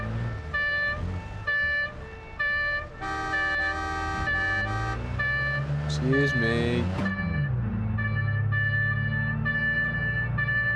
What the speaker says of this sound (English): Man, these sirens get annoying